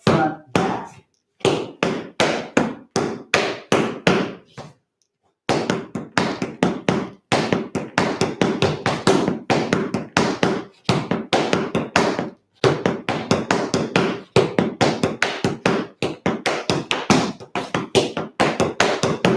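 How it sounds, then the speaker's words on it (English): Tap dance steps on a hard floor, scuffles, scuffs, heels and steps, as rapid, crisp clicking taps in repeated rhythmic phrases separated by short pauses, close and clear with no talking. "when you do the scuffle, and then the scuff back out, scuff, heel, step, back, front, back"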